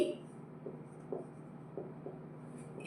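Pen or marker writing out a maths problem on paper, a few soft scratchy strokes in short bursts against quiet room tone, with no talking.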